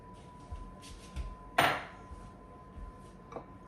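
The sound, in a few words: chopped celery dumped into a bowl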